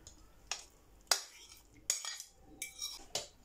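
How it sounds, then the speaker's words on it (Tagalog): A spoon works through a banana and flour batter in a bowl, sounding as several separate clinks and scrapes against the bowl's side at an irregular pace, close up and quiet. "Tuloy natin ang pag-mix"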